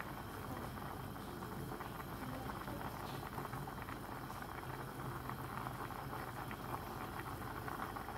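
Lentils bubble in a pot, a steady, soft boil with a constant fizzing, gurgling wash that holds the same level throughout, faint and close with no talk.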